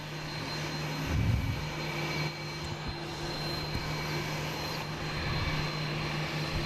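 An airplane on an airport taxiway gives off a steady, fairly loud engine drone with a faint whine, holding fairly even throughout with a brief swell near the start and no talking.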